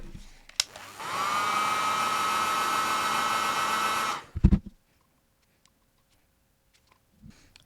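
A heat gun blows hot air onto stamping foam, a steady loud whooshing whine that spins up, runs for about three seconds, then cuts off, followed by a few clicks and handling knocks in quiet.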